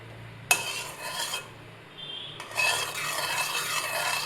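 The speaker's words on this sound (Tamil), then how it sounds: "நல்லா விடாமல் மிக்ஸ் பண்ணிட்டே இருக்கலாம்" A utensil stirs saffron milk syrup in a pan, producing soft scraping and swirling strokes over a low background hum, with a brief sharp clink at the start and a pause midway.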